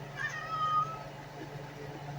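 A house cat named Tater meows faintly indoors, a brief soft cry over a steady low background hum.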